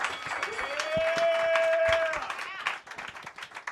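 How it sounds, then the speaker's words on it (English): An audience at a comedy roast show claps hands in a lively burst, with a whoop and a rising whistle over the steady clapping, then scattered claps trail off as it fades. "Clap your hands if you're ready to get this thing going."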